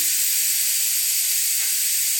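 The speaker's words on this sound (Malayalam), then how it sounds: "ഇപ്പോൾ ഇവിടെ 1 വിസിൽ വന്നു കഴിഞ്ഞപ്പോൾ ഞാനിവിടെ ഫ്ലെയിം ഓഫ് ചെയ്യുന്നുണ്ട്" A pressure cooker of green gram on the stove lets out a steady, loud hiss of escaping steam that holds evenly for the whole stretch, with no voices.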